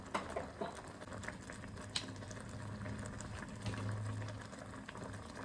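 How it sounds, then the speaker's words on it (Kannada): A pot of salted water boils on a stove with a steady bubbling patter, close and fairly quiet, with a few soft clinks and no talking. "ಅದು ಬಾಯ್ಲ್ ಆಗ್ತಾ ಇದೆ ಈಗ"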